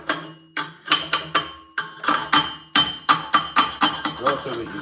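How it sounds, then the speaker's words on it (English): Hammer chipping slag off a fresh stick weld at a welding class, about a dozen sharp metallic taps coming in uneven bursts, close and fairly loud, with no talk over them. "Then, the slag you just chip off"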